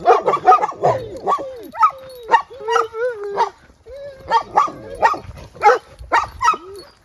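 Dogs on a hiking trail bark and yip in quick, close, repeated bursts with some whiny pitch bends, loud and almost continuous throughout.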